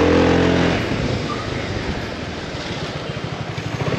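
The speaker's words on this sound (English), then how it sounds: "Their take on their ABS. The slow pumping release." BMW C400GT scooter ABS releasing the brake in a slow pulsing rhythm, a low mechanical throb repeating steadily beneath a constant engine drone, close and moderately loud.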